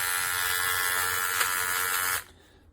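A Manscaped Lawn Mower body trimmer with a misaligned, angled blade buzzes steadily and loudly up close, a dense electric whine that cuts off abruptly near the end.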